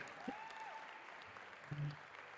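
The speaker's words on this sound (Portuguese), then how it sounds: "Pode aplaudir, pode aplaudir," A church congregation claps in a steady wash of applause during a sermon, low in level and somewhat distant, with a brief tonal sound drifting over it.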